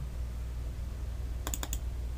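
A computer mouse double click, two pairs of quick, faint, sharp clicks in close succession over a steady low hum.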